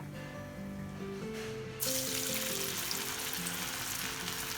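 A mashed snack mix for a Ramadan iftar dish is dropped into hot oil. The frying hiss is soft at first, then jumps to a loud, steady sizzle partway through, with music playing underneath.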